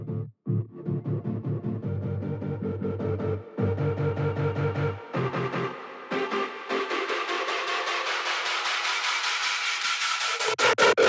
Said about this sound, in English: I also introduced the drop synth